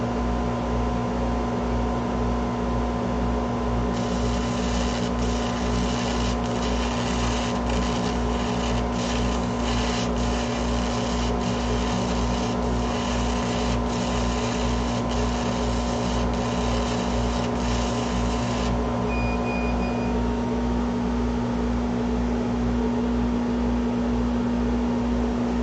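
A machine punches small pearl inlay circles, a steady mechanical hum under a run of rapid, evenly spaced punching clicks that stops partway through while the drone carries on.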